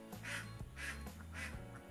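Egg-laying ducks on a farm give three loud, nasal quacks in quick succession, close by.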